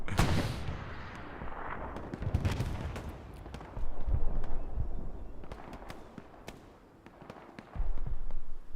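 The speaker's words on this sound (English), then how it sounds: "the commander for the Allies is infuriated and launches a couple artillery strikes on Win 70" Artillery strikes pound the area in the World War II shooter Hell Let Loose on Omaha Beach, a series of heavy booming impacts at irregular intervals, some distant and muffled, others loud and close, with no talking.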